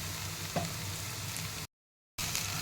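Chopped okra frying with sautéed onions in a pan, a steady broadband sizzle with a brief clatter as the okra goes in, cut by a short silent gap before the sizzle resumes.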